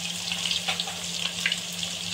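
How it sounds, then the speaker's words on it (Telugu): Mustard seeds tempering in hot oil for a gongura fish curry, a steady dense sizzle and crackle of frying close up with small popping bursts, no voices. "దీంట్లో తిరగమాత ఆవాలు వేసుకోవాలి"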